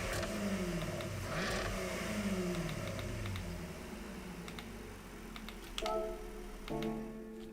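A Jaguar race car in Gran Turismo 7 at Dragon Trail Seaside, its engine droning and shifting pitch at moderate volume, with faint ticking clicks and brief revving swells near the end.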